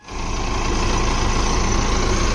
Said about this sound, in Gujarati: તો આ રહ્યું જીસીબી જોઈ લે